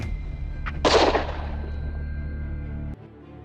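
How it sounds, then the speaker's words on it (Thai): A single sharp gunshot fired skyward in a forest cracks out, loud and close, then fades into a low rumbling echo over quiet outdoor background hum. "เสียงปืนดังสนั่นลั่นป่า"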